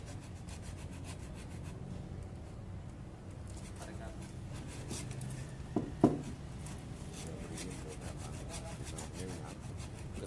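A small saw rasps in short strokes against a ficus bonsai branch, close by, beneath ongoing background conversation, with a sharp knock near the end.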